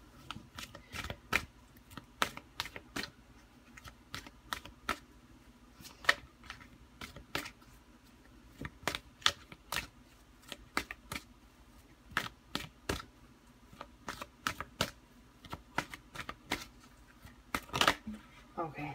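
A deck of playing cards being shuffled by hand, producing rapid bursts of crisp riffling clicks in repeated runs, close and fairly quiet over soft room background.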